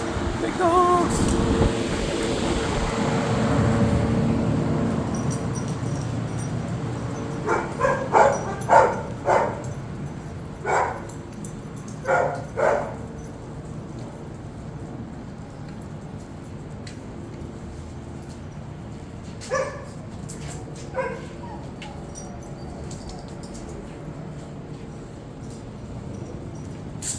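Several small dogs let outside on a summer holiday weekend bark in a quick cluster of sharp yaps, then go quiet before two more barks later, heard over a faint outdoor background.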